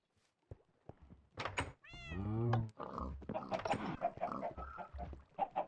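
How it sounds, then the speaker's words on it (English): Cats meowing in Minecraft at a Halloween-style trick-or-treat build crowded with black cats: a long, loud, rising meow stands out among several shorter meows and thunks. "Lots of black cats parked all over the place."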